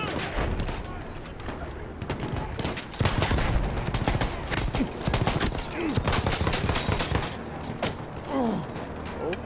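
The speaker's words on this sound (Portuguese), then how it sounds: "o cara tá atirando em mim aqui" Heavy, dense Battlefield 1 gunfire from a PS4 battle: rapid bursts and volleys of shots, some close and loud and others farther off, running nearly nonstop over battlefield noise with brief voice sounds mixed in.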